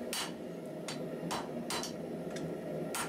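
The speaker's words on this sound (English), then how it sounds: "whenever you're hammering on it vertical, you are basically, I've said this a couple of times, you're compressing it" Hammer forging steel on an anvil, a series of sharp metallic strikes spaced irregularly about half a second apart, ringing loud and close over a steady shop hum.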